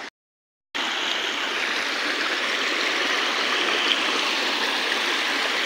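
A seasonal waterfall and stream rush through a side gorge of the Fosso di Pance near Gallicano, a dense, steady roar of falling water close by after a brief silent start.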